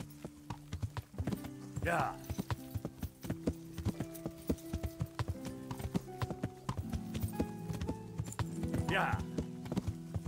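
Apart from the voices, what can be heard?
horse hooves galloping in video game Kingdom Come: Deliverance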